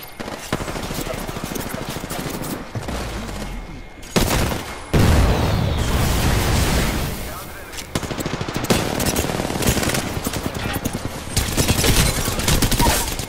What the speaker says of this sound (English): He's shooting at people already.